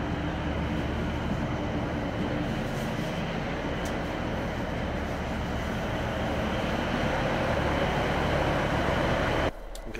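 Steady loud rumble and rattle of a passenger train in motion between York and Mansfield, heard from inside the carriage, continuous throughout and cutting off abruptly near the end.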